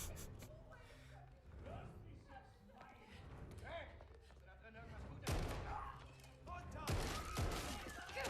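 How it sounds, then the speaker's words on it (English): Gunfire in a Call of Duty video game trailer, sharp loud bursts of shots among rumbling action sounds, with someone talking over the trailer audio. "That's a cool gun."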